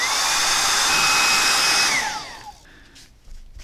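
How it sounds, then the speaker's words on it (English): A hair dryer blows with a steady, close whirring hiss, then its pitch falls as it switches off, leaving faint clicks. "I'm going to actually get my hair dryer onto this to see if I can get this to dry more quickly"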